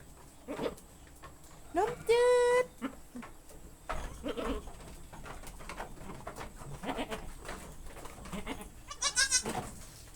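Several goat bleats, a couple of loud wavering calls among shorter ones, close by on a farm, with people talking quietly in between.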